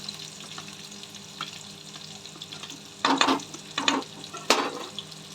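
Chopped onion frying with garlic in a pan while being stirred, a quiet background sizzle broken by a few louder scraping stir strokes near the end, no talking.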